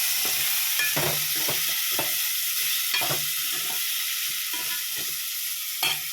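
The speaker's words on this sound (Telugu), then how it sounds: "టమాటా వేసిన దాంతో ఒకసారి కలుపుకుందాం" Tomatoes sizzle steadily in a pan for egg curry while a utensil stirs them, giving repeated scraping knocks over a constant frying hiss.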